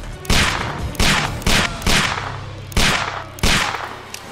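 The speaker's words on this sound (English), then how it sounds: "Okay, so aim and shoot." Gunfire in the video game Sherlock Holmes The Devil's Daughter: six sharp, loud shots spaced irregularly about half a second to a second apart, each with a brief decaying tail, with no voices.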